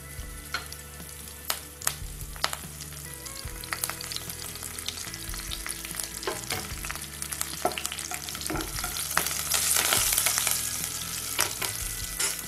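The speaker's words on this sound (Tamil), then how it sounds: "வெங்காயம் நல்லா வதங்கட்டும்" Chopped big onions frying in oil with mustard seeds, asafoetida, chilli and curry leaves for banana stem poriyal, giving a steady close sizzle broken by clinks and scrapes of stirring.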